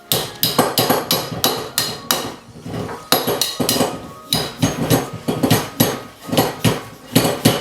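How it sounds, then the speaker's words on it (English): A rawhide mallet pounds a piece of silver metal slipped over a form in a silversmith's workshop, loud close blows landing in quick regular runs with a brief pause partway through. "And I use a rawhide mallet at first. I'm gonna pound it."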